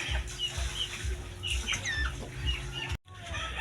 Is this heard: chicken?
yes